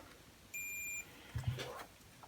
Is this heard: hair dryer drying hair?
no